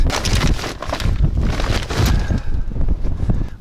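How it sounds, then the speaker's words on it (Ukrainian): Strong wind buffets the microphone in continuous rumbling gusts, loud and low, with a rushing hiss throughout and no voices. "Ну дуже сильний вітер."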